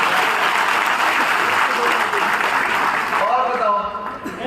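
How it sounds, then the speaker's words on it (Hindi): A large crowd at a live political rally in Rewa claps loudly and continuously, a dense roar of applause that tapers off near the end. "इनकी हिम्मत के लिए एक बार ताली बजा।"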